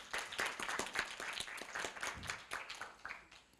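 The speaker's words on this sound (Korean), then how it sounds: "모션 앤 포스처의 김윤진 이사를 뜨거운 박수로 맞이해 주시기 바랍니다" An audience claps steadily to welcome a presenter to the stage at a Korea University campus startup showcase. The applause is fairly faint and continuous, with no voices over it.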